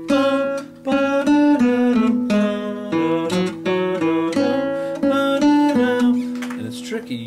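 A syncopated third guitar part figure starting on A, with clear picked notes in a choppy off-beat rhythm for about seven seconds and the last note ringing out.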